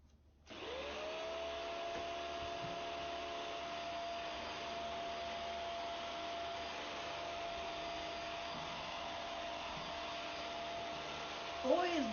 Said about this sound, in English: Hey, do you mind if I turn the vacuum on?